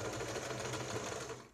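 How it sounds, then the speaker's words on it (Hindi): A sewing machine runs steadily while stitching a sleeve, a close, even mechanical whir and patter that holds for the whole stretch and eases off at the end. "अब सेंटर से फिर वापस हम दूसरे साइड में इसको सिलाई लगाते हैं।"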